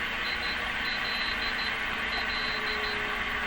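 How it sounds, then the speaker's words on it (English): Faint Morse code beeps heard as interference on a 1935 Rogers Model 7R622 tube radio, a string of short tone pulses in an irregular keyed rhythm buried in a steady shortwave static hiss. "A little bit of Morse code there."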